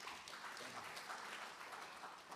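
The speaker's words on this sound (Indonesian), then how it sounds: "Kasih aplaus lah buat Kejaksaan Agung ya" Applause from an audience at an Indonesian press event honouring the Attorney General's Office, a steady, moderately distant wash of clapping filling the whole moment without pause.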